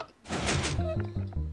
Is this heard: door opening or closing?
yes